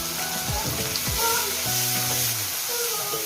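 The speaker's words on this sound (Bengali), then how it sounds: "এবার মশলাটাকে ভেজে নিচ্ছে ভালো করে" Spice paste with cumin paste, turmeric and ginger sizzles steadily in a hot pan, a continuous close frying hiss while a spoon stirs and scrapes, with a voice speaking over it.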